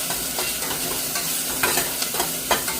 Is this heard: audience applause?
no